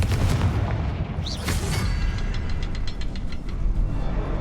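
The Confringo fire spell explodes in the Hogwarts Legacy video game inside a rune-marked cavern, a loud, deep, rumbling blast with crackling debris that fills the whole moment, no speech.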